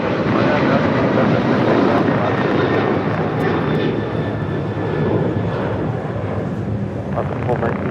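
An airliner at Los Angeles International Airport roars steadily and loudly with a broad rumbling jet engine noise, while radio voices talk faintly underneath.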